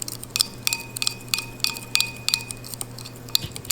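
A utensil clinks and scrapes against a bowl while a vegan herb seasoning is stirred together, with a brisk, irregular run of bright taps and chinks, close and fairly loud, with no voices.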